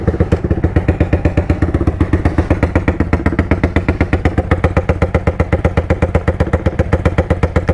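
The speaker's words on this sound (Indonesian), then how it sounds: "Agak-agak boleh kita start motor ni." A motorcycle with a four-valve piston, parked for a month and still cold, idles steadily after starting, its fast even engine thump loud and close throughout with no talk.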